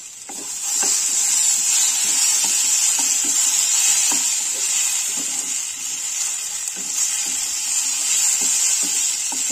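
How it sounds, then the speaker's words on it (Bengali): Small khoira fish with chopped raw tomato being stirred and fried in a pan, giving a steady loud sizzle with repeated scraping stirs throughout, no talking. "এভাবে নেড়েতে আর একটু কষিয়ে নেব।"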